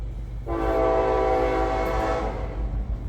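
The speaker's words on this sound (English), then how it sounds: "There goes the evening train." A train horn blasts in one long, loud, sustained chord of about two seconds over the deep rumble of a passing train.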